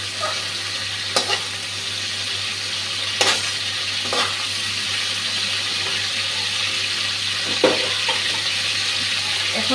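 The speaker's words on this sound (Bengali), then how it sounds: "এখন মুখী কচুগুলো ভেজে নিচ্ছি।" Mukhi kochu (taro) frying in a pan: an even, steady sizzle with a few sharp spatula clicks spaced through it, close and unbroken by speech.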